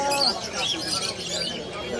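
High bird chirps and calls from a pet bird ring out repeatedly over a busy wash of people talking and general crowd noise at a bird market in Mirpur-1.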